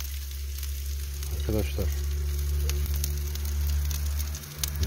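Chicken wings sizzle on a hot marble grill at a barbecue. The frying crackle is steady and fairly close, and someone speaks briefly over it.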